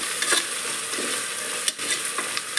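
Masala fries in a pan for chicken biryani, a steady close sizzle with occasional scraping stirs and light clicks of the spoon.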